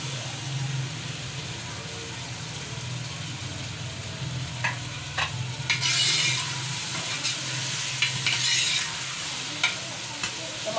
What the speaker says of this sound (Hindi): और अदरक लहसुन का पेस्ट डाल देंगे।